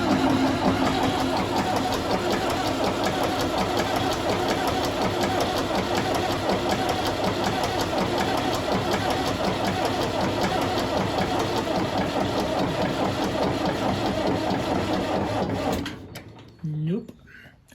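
A David Brown 996 tractor's diesel engine cranks hard and loud for about fifteen seconds without catching, a steady churning roar that cuts off abruptly near the end.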